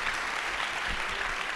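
Audience applause filling a hall after a book keynote, steady dense clapping throughout at moderate loudness, no voices over it.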